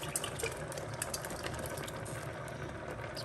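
Water pours steadily into a cooking pot while spaghetti is made for a budget family meal, giving a continuous broadband splashing rush at close range, with no talk over it.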